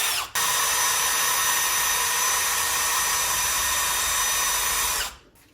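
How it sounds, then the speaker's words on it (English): A power drill runs steadily for about five seconds, boring small holes for cabinet hardware, loud and close with a sharp start and a quick spin-down at the end. "use your drill to drill it in"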